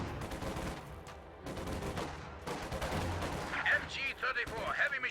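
Small arms gunfire in a World War II-style multiplayer strategy video game, with rapid bursts and scattered shots under in-game voices, fairly quiet and continuous.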